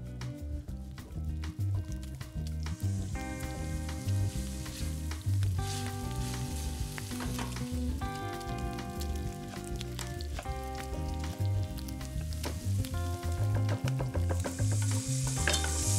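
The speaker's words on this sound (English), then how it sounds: "Chop the bacon. So I'll cook the bacon." Chopped bacon fries in a pan, a dense, continuous close sizzle with crackling that stays loud and even throughout, heard alone with no voices.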